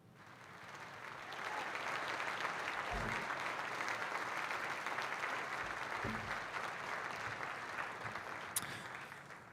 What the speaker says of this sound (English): I got to give the Chiefs a round of applause.